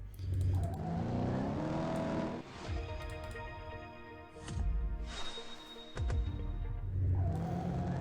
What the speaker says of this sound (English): Let's have the McLaren F1 do the slalom.